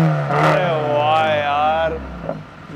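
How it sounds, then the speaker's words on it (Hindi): A BMW 328i fitted with the Z4 engine revs up and back down near the listener, its exhaust note rising in a smooth sweep, holding, then dropping away within about two seconds. "एक बारी मेरे व्यूअर्स को एग्जॉस्ट सुना दो भैया, ये देखो यार Z4 का इंजन आता है इस गाड़ी में"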